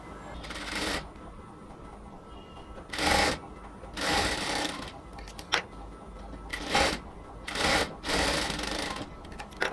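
A sewing machine runs a double stitch along a shirt shoulder seam in short bursts of rapid whirring, separated by pauses, with a voice talking between and over the runs.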